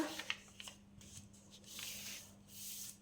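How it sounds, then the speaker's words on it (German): Sheet music paper is folded by hand in a quiet room, making soft crinkling and rustling in a few separate bursts, one sharper crease snap near the start, with no talk. "Ich nehme mir hier einfach ein bisschen Notenpapier, falte das einfach einmal auf"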